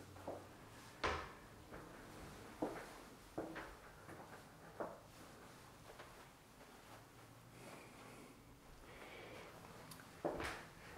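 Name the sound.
doors being opened and closed in a model home bathroom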